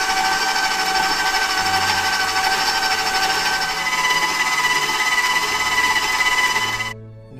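Electric mixer beating butter and sugar for a lemon cake, a loud, steady whirring hum that runs for about seven seconds close by and then cuts off abruptly, with no talk.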